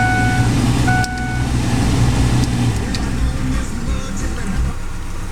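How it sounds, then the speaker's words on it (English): A 2004 Ford Explorer Eddie Bauer Edition's engine turns over and settles into a steady low rumble close by, with a few thin electronic chime tones from the dash near the start. "I'll start the vehicle up right now."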